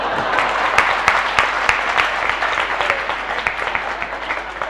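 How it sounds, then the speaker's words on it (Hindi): An audience at a religious discourse claps steadily in a loud, continuous round of applause, with individual sharp claps standing out. "आपके हंसने से, तालियां बजने से लगता है ये दवाई काम करेगी"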